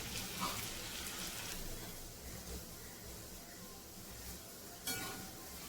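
Raw potatoes fry in a pan for sabudana khichdi, giving a steady broadband sizzle throughout with a few louder bursts, moderately close.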